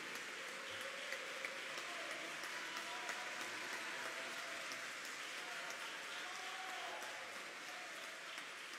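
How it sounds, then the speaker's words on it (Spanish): Continuous crowd clapping after a talk about abortion, a thick even wash of hands that holds steady at moderate level with faint speech beneath it. "Aquí hay una verdadera guerra de aplausos"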